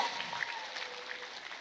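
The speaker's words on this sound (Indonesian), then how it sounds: "Tepuk tangan dulu buat petani di Indonesia." An audience at an Indonesian Islamic religious gathering applauds in honour of farmers, giving a soft, dense patter of clapping that stays fairly even and slightly distant throughout.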